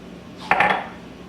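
Shredded mild cheddar cheese is stirred into simmering potato soup made with half and half and milk in a pot, giving a brief scraping, clinking stir of a utensil against the pot, fairly close and alone.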